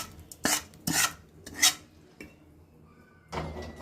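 A spoon scrapes and clinks against a pot while tempering is stirred into idli batter, giving a few short, separate strokes with brief pauses between them, close and fairly quiet.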